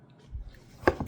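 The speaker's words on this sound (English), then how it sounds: "So cut it in half. Cut it in half again." A knife slices through a vegetable on a cutting board while making a chunky salad, a few soft strokes ending in two sharper taps on the board.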